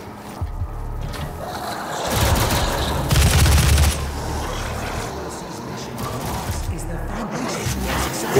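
Gunfire in the video game Doom (2016) erupts in dense bursts of heavy shots and booming impacts over a constant rumbling game soundscape, loudest in the middle of the stretch.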